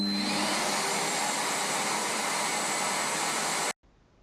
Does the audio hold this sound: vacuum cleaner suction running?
yes